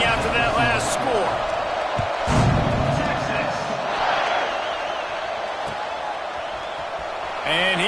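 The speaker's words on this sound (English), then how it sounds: "this crowd is buzzing after that last score" A packed American football stadium crowd buzzes after a score as teams line up for a kickoff, a loud, steady roar throughout with a commentator talking over it.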